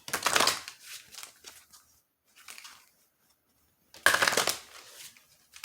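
Oracle cards being shuffled in bursts, a dense riffling rustle at the start, softer shuffles in the middle and another strong burst near the end, close and with no talking.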